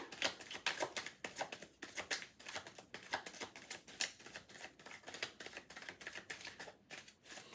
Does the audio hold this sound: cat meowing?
no